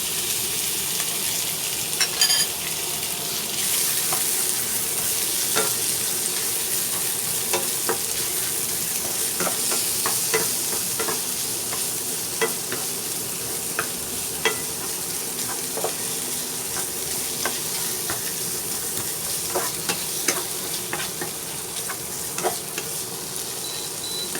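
Pork and garlic stir-frying in a pan for a basmati pineapple fried rice, a steady loud sizzle with frequent spatula scrapes and clicks against the pan, no voices.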